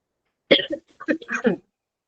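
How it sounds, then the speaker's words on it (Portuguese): A short burst of several harsh coughs close to the microphone, clustered together and then stopping, with quiet before and after. "estou com uma tosse"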